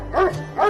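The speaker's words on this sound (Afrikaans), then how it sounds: "Toe hoor Rip 'n blafgeluid." A dog gives two quick barks, moderately loud and fairly close, with a short gap between them and nothing else around.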